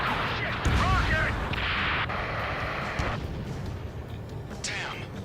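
A rocket explosion in the Ace Combat 7 combat flight video game rumbles as a heavy, sustained blast amid ongoing battle noise, with radio-style voices talking over it.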